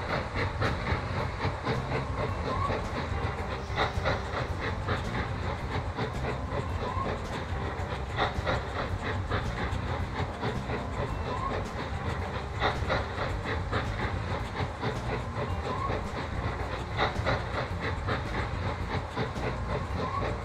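A train rolls in within the railway building game Mashinky, set around 1962, with steady rumbling rail noise and faint rhythmic clicking continuing throughout at a constant level.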